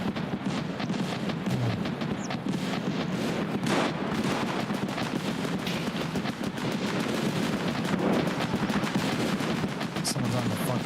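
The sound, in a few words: gunfire from players fighting in the video game Escape from Tarkov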